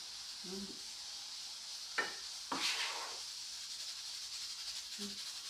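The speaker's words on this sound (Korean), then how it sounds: "감자 찌는 소리가 들리죠?" A pressure cooker steaming potatoes gives off a steady, faint hiss in a home kitchen, with a few soft clicks and knocks from chopping and handling nearby and no voices.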